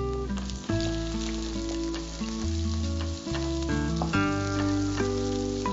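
Dried red chilies fry in hot oil in a pan for gongura upma, giving a steady close sizzle throughout, with tonal background music over it.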